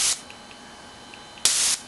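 A Masterplus Pro dog training spray collar releases two short hissing bursts, a brief one at the start and a fuller, longer spray near the end, loud and close with quiet between.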